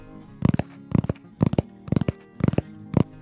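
Fingertips tap lightly on a hard surface as an ASMR trigger, in six quick clusters of three or four close, crisp taps spaced evenly apart, with no voice.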